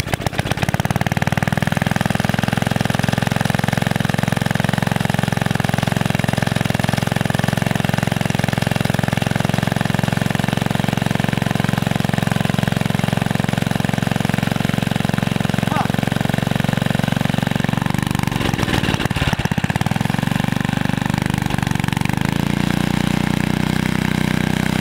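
Small engine of a Pennsylvania Exeter reel mower running after a long idle period, a loud, steady, close chugging drone that holds constant, with a brief throttle wobble near the end.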